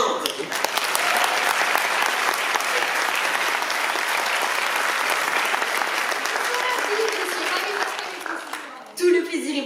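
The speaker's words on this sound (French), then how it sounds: "Un tonnerre d'applaudissements pour Jeanne Quinte." Thunderous applause from a concert audience at a school music performance, loud and sustained for about nine seconds before fading, with a brief burst near the end.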